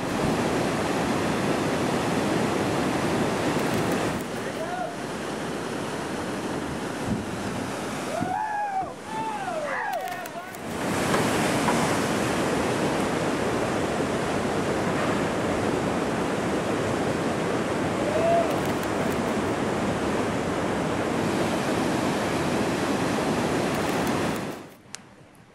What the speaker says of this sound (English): there is no shortage of whitewater or waterfalls